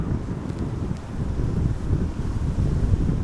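Strong headwind gusting at Amsterdam Schiphol Airport, a loud, continuous low rumbling buffet of wind against the microphone that swells and pulses throughout, with no voices.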